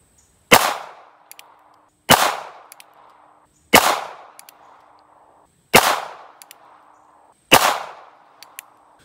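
Five sharp gunshots from an NAA Sidewinder mini revolver fired one-handed at close range, evenly spaced about every one and a half seconds, each a loud crack followed by a short ringing decay, with faint clinks between shots.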